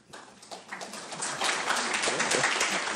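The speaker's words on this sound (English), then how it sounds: "it'll just be a louder applause" An audience at a university panel discussion breaks into applause, starting with scattered claps and swelling into steady, full clapping.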